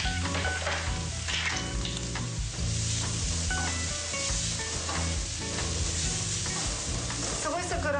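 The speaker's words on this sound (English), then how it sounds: "We're going to saute the onions and the garlic in hot olive oil" Onions, garlic and a teaspoon of cumin seeds sauté in hot olive oil, making a constant close sizzle with stirring and scraping in the pan, no voices.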